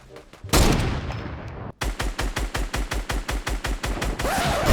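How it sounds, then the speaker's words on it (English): Gunfire in the Fortnite video game, starting with a loud blast and then a rapid, evenly spaced string of about fifteen close, punchy shots in steady rhythm. "I think I'm gonna start shooting anyway."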